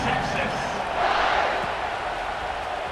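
Stadium crowd in the EA Sports College Football 26 video game, a steady broad roar of murmuring fans, subdued and constant, with a commentator speaking over it.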